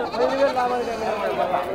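Goats bleating at a busy livestock market where goats and sheep are sold, several overlapping bleats rising over steady crowd chatter and nearby talking throughout.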